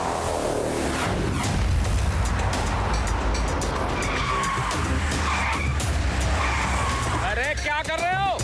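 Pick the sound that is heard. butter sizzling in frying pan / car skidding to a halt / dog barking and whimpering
car skidding to a halt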